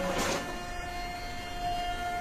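A TSC MH241T barcode label printer auto-calibrating the label gap, a short whirring feed burst at the start followed by a steady faint mechanical tone and hum.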